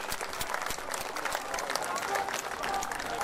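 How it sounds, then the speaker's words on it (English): A crowd at an outdoor model warship display gives a brief, brisk round of applause for the operators on the water, with clapping mixed under a spoken voice throughout. "I think a quick round of applause for our on the water operators is required"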